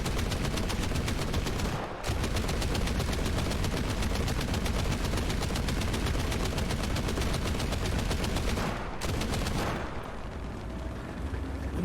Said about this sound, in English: Who needs anti-air when you have American 50s?